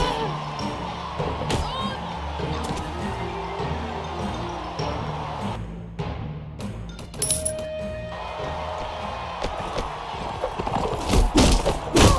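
Horse hooves clip-clop in the Mount & Blade: Warband video game, a steady trotting patter with thumps and game ambience, no voices over it.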